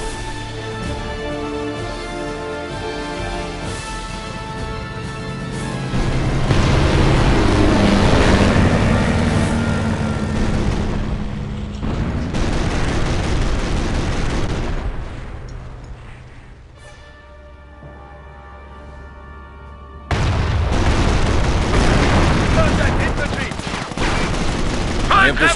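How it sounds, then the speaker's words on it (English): Anti-aircraft guns fire tracers in Company of Heroes, with dense, continuous bursts of rapid gunfire under loud rumbling battle noise, partly broken by a brief quieter lull, and spoken unit voice lines come through over the fighting. "Anti-aircraft batteries manned. Fill the skies with tracers."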